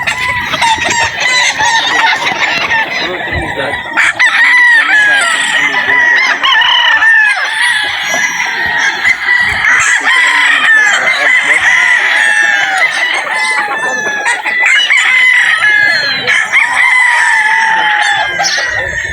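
Several gamefowl roosters crow repeatedly and loudly at a game farm, overlapping with clucking hens, a busy farmyard chorus that runs the whole time with some voices mixed in.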